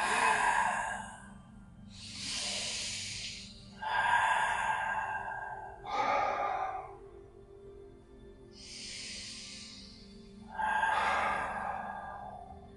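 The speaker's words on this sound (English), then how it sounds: "A few clearing breaths, deep inhales, exhales." Slow, deep clearing breaths during a yoga session, several long airy inhales and exhales in a steady rhythm, close and breathy over a faint low background hum, with no talking.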